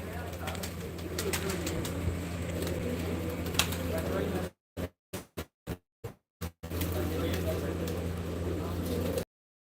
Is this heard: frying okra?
no